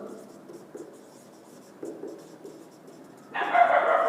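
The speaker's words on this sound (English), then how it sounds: "see there are dogs are barking outside" Dogs bark outside during a maths lesson, a few short distant yaps scattered over the clip, faint and intermittent, before a louder burst of noise at the end.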